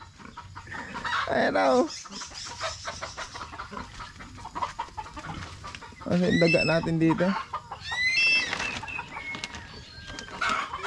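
Chickens cluck and squawk close by in an agitated backyard flock, with loud bursts of harsh calls and a rooster-like cry, while someone talks over them.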